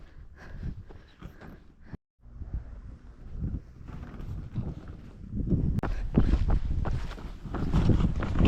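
Gusty wind buffets the microphone in rumbling surges that grow stronger toward the end, with a brief dropout partway through.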